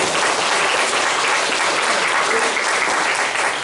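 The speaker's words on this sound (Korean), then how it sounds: "우리 손용조 푸르사와 기옥고 가정을 위해서도 우리 힘찬 이런 박수를 부탁드립니다." A church congregation at a Pyeongtaek family church Sunday service breaks into vigorous applause, loud dense clapping that stays steady throughout with no talking over it.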